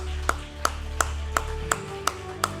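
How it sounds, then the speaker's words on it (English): Evenly spaced single claps ring out at a steady beat at a law school negotiation competition closing ceremony, about seven sharp hits over a low room hum. "Ladies and gentlemen, we can clap louder than that."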